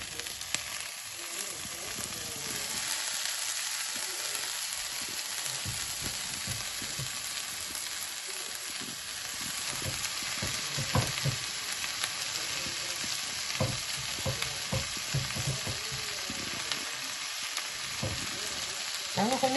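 Goat intestines fry with sautéed onions in a pan, a steady bright sizzle interrupted by repeated stirring scrapes and clinks, at moderate volume with no talking.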